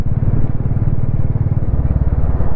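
A group ride of motorcycles passing close by on a road in Spiti Valley, a loud, steady, rumbling engine drone with throbbing pulses that carries unbroken through the whole moment.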